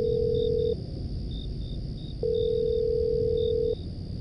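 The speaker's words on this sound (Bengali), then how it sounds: "হঠাৎ করেই রাজীবের কথা মনে পড়তেই তাকে ফোন করলো সে।" A telephone ringback tone sounds in a horror audio story: a steady low beep, a pause, then a second longer beep over a faint hum.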